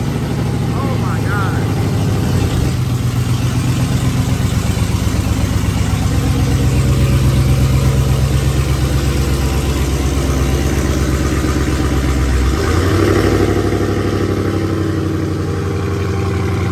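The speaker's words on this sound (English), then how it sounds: "That's a Hellcat with Corsa Performance exhaust." A Dodge Hellcat fitted with a Corsa Performance exhaust idles nearby with a steady, deep low rumble, holding even for the whole stretch with a slight swell near the end.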